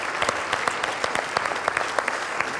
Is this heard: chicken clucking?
no